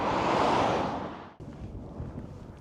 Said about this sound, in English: It's very windy though, and it's a bit chilly.